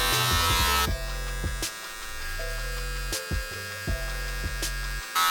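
An adjustable electric hair clipper buzzes steadily at close range while cutting a taper near the temple, its motor drone shifting slightly in pitch as it moves through the hair, with a few brief pauses and clicks.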